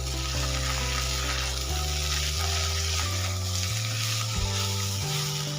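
Long beans with mustard paste and grated carrot fry in a pan while being stirred, a continuous close sizzle broken by repeated scraping stir strokes, with no talk.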